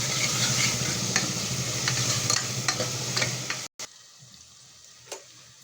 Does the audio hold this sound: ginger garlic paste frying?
yes